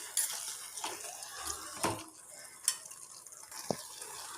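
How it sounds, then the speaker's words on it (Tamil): Jaggery being stirred into mango pachadi in a pot, soft wet stirring and a few sharp spoon taps against the vessel, close and fairly quiet. "வெல்லம் போட்டு நல்லா மிக்ஸ் பண்ணி விட்டுருங்க."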